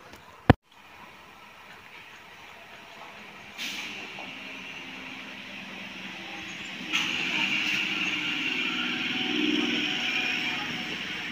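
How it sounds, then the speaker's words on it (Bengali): Last local train pulling in on the Kolkata–Sealdah line, a broad rail rumble and hiss building steadily as it arrives, with a sharp click near the start and brake-like hissing bursts rising toward the end. "ট্রেনটা এসে গেছে, ট্রেনটায় উঠে পড়ি"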